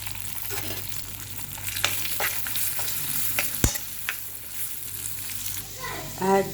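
Cashews, almonds and raisins fry in a pan with a steady close sizzle, punctuated by scattered stirring scrapes and one sharp clink midway; a faint voice is briefly heard near the end.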